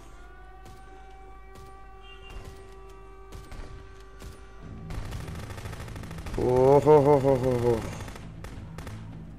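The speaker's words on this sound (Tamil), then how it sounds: "ஏய் நீங்கெல்லாம் மிஷின் கன் வச்சுருந்துக்கீங்களா?" Machine gun fire in the police game Contraband Police, a dense rapid burst starting midway and swelling loud, mixed with a rising siren-like wail, while a voice whoops over it.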